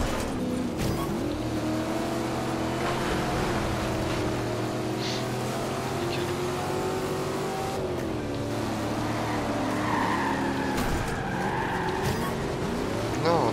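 An American car skids and slides in Forza Horizon 2, steady engine drone with tire squeal and sliding noise running throughout, loud and close.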